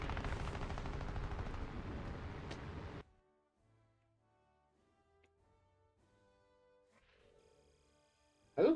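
Rapid machine-gun fire in the War Thunder video game, a dense continuous burst for about three seconds that cuts off abruptly, followed by near silence and a brief loud noise at the very end.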